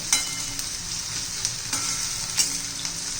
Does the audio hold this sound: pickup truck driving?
no